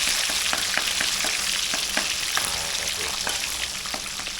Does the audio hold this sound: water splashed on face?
no